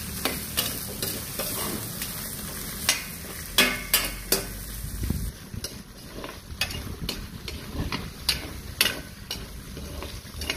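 Garlic, onion and tomato sauté in a hot pan, a steady close sizzle broken by repeated sharp scrapes and clacks of stirring, with a quieter hiss in the second half.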